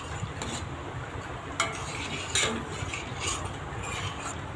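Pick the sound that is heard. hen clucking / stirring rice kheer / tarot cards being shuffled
stirring rice kheer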